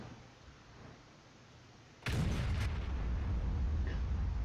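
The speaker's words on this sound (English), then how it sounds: "now we're doing a bit of the standard artillery blind shooting" Artillery fire in World of Tanks, a sudden loud gun blast at about two seconds followed by a couple of quick reports and a sustained low rumble, preceded by quiet battlefield ambience.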